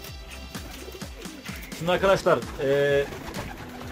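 Pigeons coo inside a coop: soft, throaty, rolling calls that rise to a louder burst of cooing midway. Someone talks over the birds at the start.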